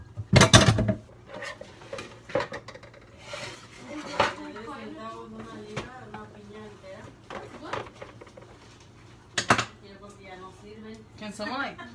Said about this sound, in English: So I'm currently washing the dishes right now.